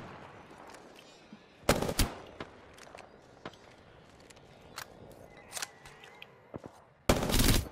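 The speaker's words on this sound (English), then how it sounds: "Odd enemies were shooting at that from there." Gunfire in the Apex Legends video game, including a Prowler: bursts of rapid shots crack out, two loud volleys near the start and end, with scattered single distant shots between and no talk.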